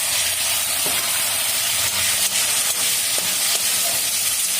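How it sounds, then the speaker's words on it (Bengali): Chopped onions fry in a spice paste for a bottle gourd and prawn curry, giving a loud, steady sizzling hiss close by with occasional faint clicks of stirring. "এখনও পেঁয়াজটা ভাজা হয়ে যাবে। এই পেঁয়াজটা লাল লাল করে ভেজে নিয়ে এবারে লাউটা দেবো।"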